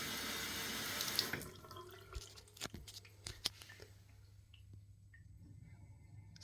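A newly fitted bathroom tap runs water into a sink with a steady hiss for about a second before being shut off, leaving a few faint drips and small clicks in the quiet.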